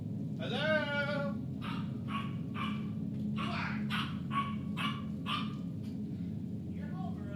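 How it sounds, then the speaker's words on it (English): A dog barks repeatedly indoors, sharp yips and bow-wows with a whimpering whine at the start, close by over a steady low hum of the room. "My dog."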